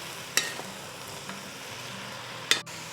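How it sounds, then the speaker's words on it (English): Leeks sizzling in butter in a pot, seasoned with salt and black pepper, giving a faint, steady hiss with two sharp utensil clinks as they are tossed to coat. "toss to coat all of the leeks with the butter"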